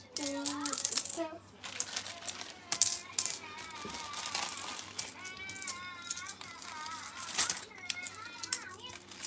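Coins from a broken-open piggy bank clink and rattle as they are counted, bright metallic jingles in bursts near at hand, with children's voices and talk around them.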